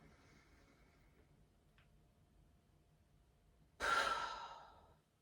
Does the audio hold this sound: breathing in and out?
yes